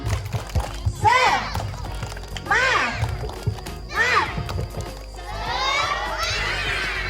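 Kindergarten children chant and clap in rhythmic bursts while jumping, several loud group shouts spaced out close by, ending in a longer excited chorus of young voices.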